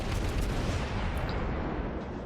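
Kuma light cruiser in World of Warships firing a six-shell broadside, heard as a dense, continuous rumble of heavy gunfire and booming at steady loudness, with no clear separation between individual shots.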